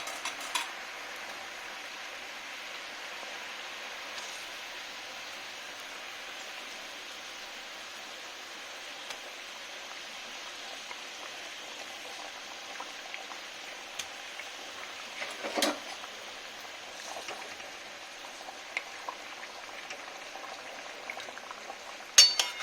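Fish pieces going into a simmering tamarind gravy in a pan, a steady soft bubbling hiss with a few faint clinks and one sharper splash or scrape, no talk.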